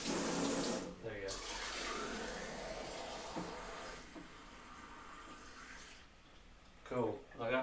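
Water runs steadily from a tap into a sink as someone fills a container, loud at first and then quieter, with brief breathy voice sounds near the end.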